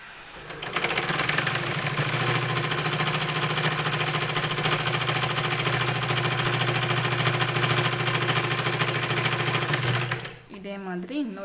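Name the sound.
sewing machine stitching the edge of blouse fabric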